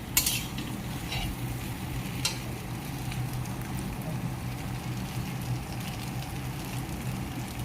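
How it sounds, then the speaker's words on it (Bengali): Potatoes fry in a pan with a steady, fairly quiet sizzle, broken by a few sharp utensil scrapes and knocks as they are stirred. "ভালোভাবে আলুটাকে ভেজে নিতে হবে।"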